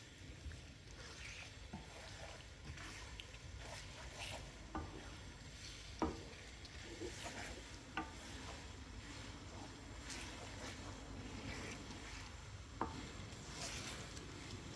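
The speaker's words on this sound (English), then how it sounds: "Reintroduce our cooked paneer tikka to the masala and give it a thorough mixing so everything combines well." Paneer tikka being stirred into masala curry in a pan: a steady soft sizzle and bubbling, with quiet scrapes and a few sharper clinks of the spoon, faint and continuous without talk.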